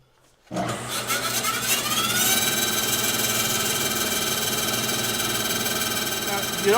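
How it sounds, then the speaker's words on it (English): A power saw spins up from near silence and cuts through a wooden piece, giving a steady, dense whirring and rasping drone that holds for several seconds. "Let the saw do its work. Let it cut."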